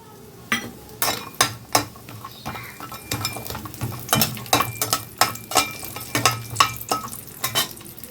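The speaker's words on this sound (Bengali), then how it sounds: "এখানে হিটে আমি একটা কড়াই বসিয়ে তার মধ্যে আমি দু চামচের মতো রিফাইন তেল দিয়ে দিয়েছি এখন প্রথমে আমি বড়িগুলোকে একটু ভেজে নেব" Lentil dumplings (bori) fry in about two spoons of refined oil in a wok over heat, with repeated sharp scrapes and clinks of a stirring utensil over a low, steady sizzle throughout.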